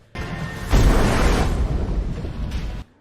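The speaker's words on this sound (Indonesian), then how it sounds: "Mengetahui kapal itu akan meledak" A ship explodes in an action film as a loud, broadband blast that swells quickly and roars steadily for about two seconds before cutting off sharply.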